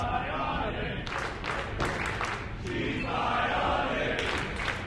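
A wrestling crowd at the Rec Room cheers and chants steadily throughout, with bursts of louder rhythmic chanting over a constant roar, while commentators talk over it.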